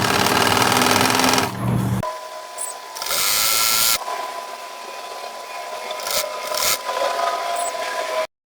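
A sewing machine stitches hijab fabric in several loud, close bursts of rapid needle chatter, each run stopping abruptly, with short quiet gaps and brief restarts between them.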